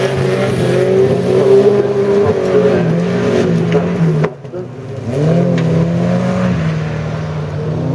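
Rallycross-style race cars on a track, engines roaring and revving close by with gear changes and shifting pitch, a brief dip before the engines surge again, a commentator talking over the noise.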